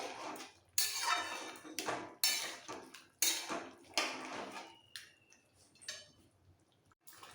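A spoon scrapes and clinks against a cooking pot while boiled vegetables are mixed for pui chhyanchra, a Malabar spinach dish made with rohu fish head, in a series of loud, irregular metallic strokes with short pauses in between.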